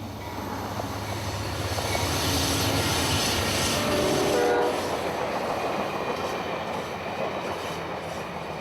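A northbound Amtrak Silver Star passenger train passes through Haines City, Florida, on a December evening with a loud, steady rumble of wheels and cars rolling by, swelling in the middle and then easing off.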